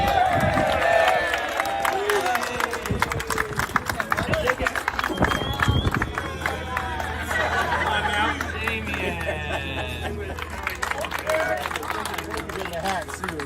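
A group cheers and claps as a name is announced, a loud burst of chatter and applause rising over a lively crowd, with a voice speaking over a radio-like hum.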